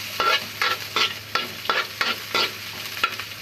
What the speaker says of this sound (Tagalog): Sibuyas, bawang. Hintay natin na mag-brown siya guys.